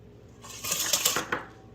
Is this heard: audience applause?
no